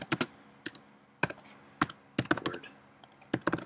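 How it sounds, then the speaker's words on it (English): Keys tapped on a computer keyboard in short bursts of quick clicks separated by brief pauses, close and fairly quiet, no talking. "I'm going to type in WordPress."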